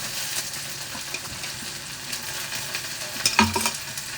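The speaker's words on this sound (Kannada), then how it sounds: "ಇನ್ನೊಂದು ಸ್ವಲ್ಪ ಫ್ರೈ ಆಗಬೇಕು" Egg rice masala frying and being stirred in a pan, a steady close sizzle with soft scraping strokes throughout and a brief louder clatter near the end.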